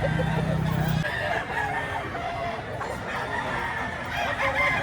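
A rooster, a gamecock presented by its owner, crows loudly once near the start for about a second, then the crowing gives way to clucking and busy outdoor background noise.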